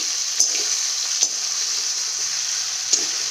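Ginger pieces frying in hot oil in the middle of a kadai for a vegetarian mixed-vegetable chhyachra: a steady, bright sizzle with a few sharp stirring knocks from the utensil, no talking.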